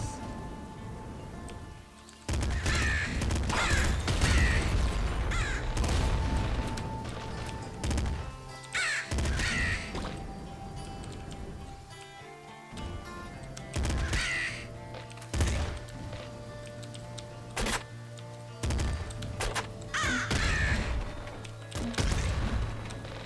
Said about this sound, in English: I did not see that last crow.